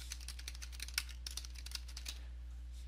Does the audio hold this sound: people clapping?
no